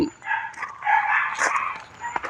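A dog at a temple in Chae Hom, Lampang, Thailand yelps and whines in a few short, high-pitched bursts, fairly close, with no talking.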